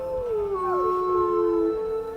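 Wolves howl close by in a short, melodic chorus. A main voice slides downward while higher howls overlap it, and the whole passage lasts about two seconds.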